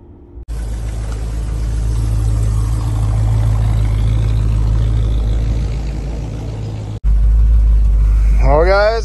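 A 1965 Ford Mustang Fastback pulling up and idling nearby, its steady low engine rumble running unbroken for several seconds before cutting off abruptly, followed by a brief burst of louder rumble and whirring.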